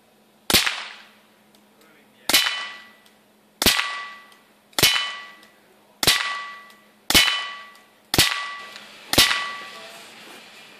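Explosive air gun pellets fired at a target about five metres away, eight sharp cracking bangs spaced roughly a second or so apart, each with a ringing metallic tail, loud and close.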